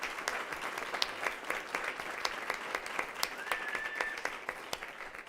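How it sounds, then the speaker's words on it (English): Sustained applause from an audience at a Weslaco ISD school board meeting honoring the district champion high school cross-country team, steady dense clapping with scattered sharper claps throughout. "Let's give them a round of applause."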